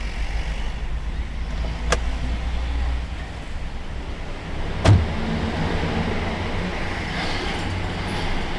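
A car pulls up, its engine a steady low rumble for several seconds, with brief sharp clicks or thuds partway through and a louder knock near the middle.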